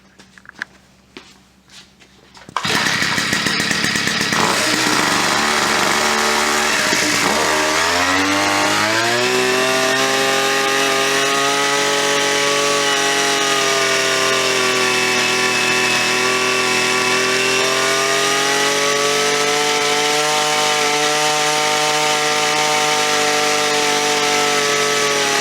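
Small gas engine on an UberScoot 2x 2-speed scooter, still being broken in, starts after a few seconds of quiet and runs loud and close with a buzzy, chainsaw-like drone, revving up and then holding a steady high idle.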